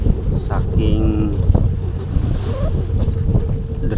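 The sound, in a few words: strong currents, waves and wind around a ship at sea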